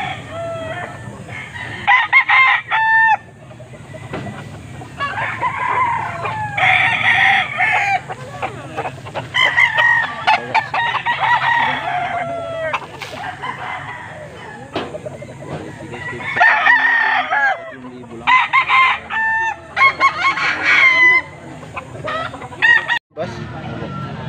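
Chickens clucking and cackling up close in repeated bursts, with roosters crowing several times amid the racket of a market in Angeles City, Pampanga.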